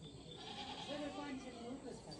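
Goats bleating on a village farm, a few wavering, drawn-out cries rising and falling close by, fairly faint with rustling in the background.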